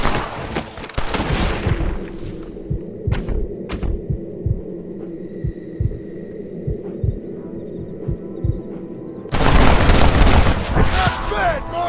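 Gunshots in Red Dead Redemption, a Western video game, fire as a few sharp cracks around the third second over low rumbling thumps and a steady hum, with loud dense activity at the start and end.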